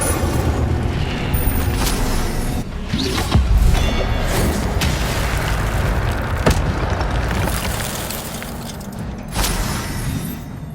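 The Incendio fire spell in Hogwarts Legacy erupts in dense, continuous booming and whooshing blasts, loud and close, with crashing bursts during a fight.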